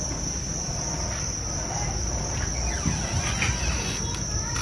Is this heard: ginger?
no